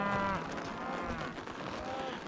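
A cow lets out a drawn-out moo near the start as cattle are herded toward a road on a shipping day, followed by quieter lowing and shuffling outdoors.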